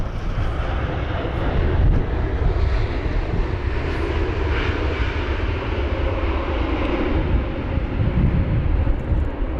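An Aeromexico airliner comes in to land at London Heathrow during Storm Kathleen, its engines making a loud, steady roar that blends with gusting wind for the whole stretch, broken only by a brief voice.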